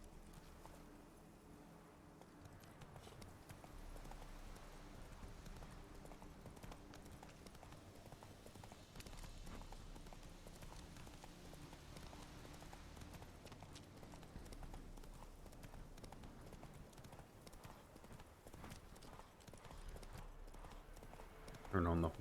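Roach the horse's hooves clip-clopping in The Witcher 3: Wild Hunt, a steady walking rhythm of quiet hoofbeats repeating throughout under game sounds and someone talking.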